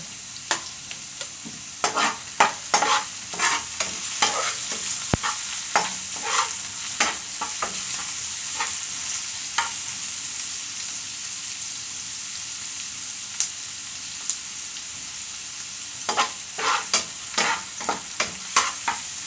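Ginger sautés in a pan for piccadillo tilapia, with loud, close spatula scrapes coming in quick bursts over a constant sizzle, then a quieter spell before another run of rapid strokes.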